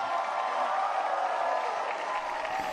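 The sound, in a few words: crowd cheering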